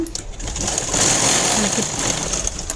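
A sewing machine stitches a plain blouse in one steady, close, continuous whir that stays level throughout.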